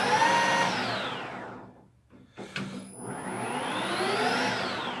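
A machine driven through a gearbox on a 50 Hz supply whirs loudly, winds down almost to silence, then spins back up to a steady running drone, with a brief clunk between.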